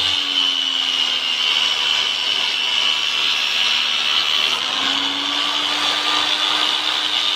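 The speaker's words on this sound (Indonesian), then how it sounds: "Ini pakai amplas di 240" Sandpaper of 240 grit grinding a Solingen kitchen knife blade: a continuous, even abrasive grinding hiss runs steadily throughout, with a faint low hum beneath it.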